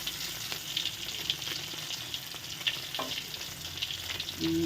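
Mackerel fries in hot oil until crispy, giving a steady, fairly quiet bubbling sizzle with occasional soft clinks from a utensil and no voices.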